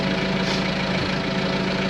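A tractor engine idles steadily in a hayfield during haying, a constant low mechanical rumble with a faint hum throughout and no voices.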